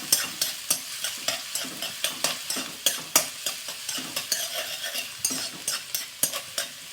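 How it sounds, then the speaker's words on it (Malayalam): Chopped onion fries in hot coconut oil, a steady close sizzle broken by regular scrapes and taps of a spoon stirring the pan, about two strokes per second throughout, with no voices. "വെളിച്ചെണ്ണ ചൂടായിട്ടുണ്ട്. ഞാനതിലേക്ക് സവാള അരിഞ്ഞ് ചേർത്ത് കൊടുക്കാം."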